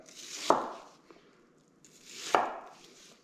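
A knife cutting through a vegetable on a cutting board, two crisp, close chopping knocks about two seconds apart, each preceded by a brief soft slicing rasp, with quiet between and no talking.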